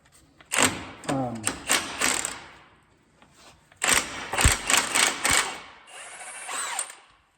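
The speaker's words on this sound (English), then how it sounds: "Got a 30 millimeter socket and a Milwaukee 18 volt impact" Milwaukee 18-volt cordless impact wrench with a 30 mm socket spinning an axle's flanged nylon-lock nut on a RZR Pro R, two loud bursts of rapid hammering rattle separated by a pause, with a faint voice in between.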